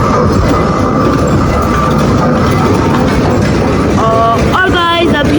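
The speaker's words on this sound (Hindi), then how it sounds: "और ट्रेन भी चल रही है अभी" A train runs past on a busy railway during an Eid shopping outing, a steady loud rumble with rattling wagon noise throughout, and bright horn-like tones near the end.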